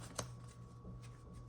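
A deck of tarot cards shuffled during a collective reading, a soft papery riffle with a sharp flick near the start followed by quieter rustling bursts.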